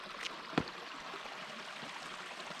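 Soft, steady rushing of a flowing creek on Bear Canyon Trail in Tucson, Arizona, quiet and continuous in the background, with a brief knock or tap near the start.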